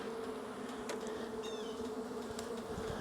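Honey bees from a swarm buzz steadily close by as a dense, continuous drone with a few individual bees passing near. Faint background noise runs beneath, and no one speaks.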